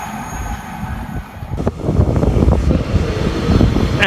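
An Elizabeth Line class 345 unit, 345-014, passes on the Great Eastern Main Line, its wheel and car rumble rising from a low background and holding steady and fairly close with faint squeal, no talk.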